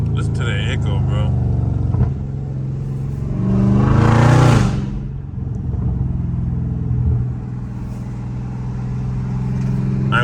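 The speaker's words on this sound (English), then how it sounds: "Listen to that echo, bro." A loud Dodge Scat Pack's exhaust rumbles steadily in city traffic, swelling into a strong roar that echoes off the street for a few seconds before settling back to a drone, with someone talking over it.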